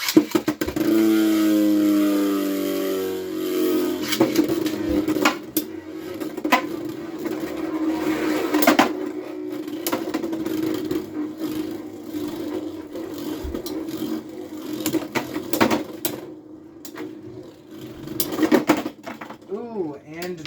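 Beyblade tops Dran Sword and Cobalt Dragoon whir and grind against each other in a battle stadium, a steady loud spinning drone with scraping clashes, and a commentator talks over it throughout.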